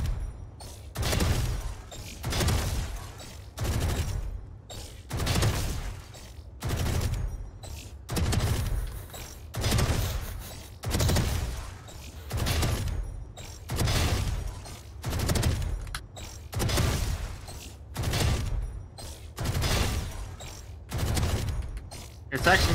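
Rapid bursts of the Odin machine gun in a video game repeat in a steady rhythm of loud volleys, one after another, with talk faintly underneath.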